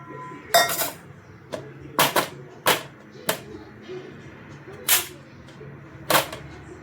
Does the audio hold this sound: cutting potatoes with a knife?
yes